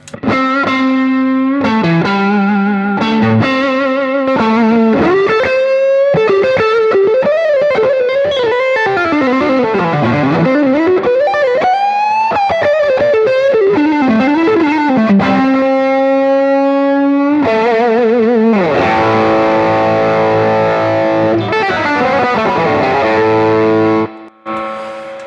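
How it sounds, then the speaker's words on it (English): Electric guitar played through a Way Huge Doubleland Special overdrive with both overdrive channels stacked in series, a sustained melodic line with bends that thickens when the second stage kicks in, loud and alone. "So with the series toggle switch up, this is where you can stack the overdrive"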